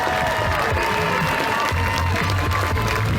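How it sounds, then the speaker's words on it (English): Spectators at the 2019 Great North Run keep up loud, unbroken applause and some cheering for runners coming in at the finish, a dense wash of clapping from a large crowd. "the fact that you just keep that applause going for everyone coming in"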